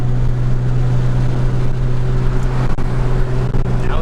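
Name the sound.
modded Nissan GTR accelerating 0-60 mph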